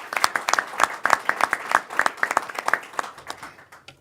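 Applause from an audience at a public event about veterans in New York: a steady patter of clapping from a modest crowd that thins out toward the end.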